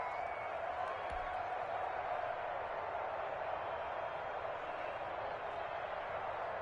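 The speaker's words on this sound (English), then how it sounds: "The crowd getting into it as we come up on a big 3rd down" A stadium crowd in an American football video game keeps up a steady, distant roar of cheering, with a commentator talking over it.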